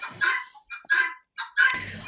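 A hen that has been brooding ducklings clucks in several separate loud, close bursts with short pauses between them, no one talking over it.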